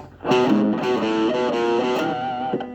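A short distorted electric guitar riff, a run of sustained notes moving up and down in a steady phrase, loud and close.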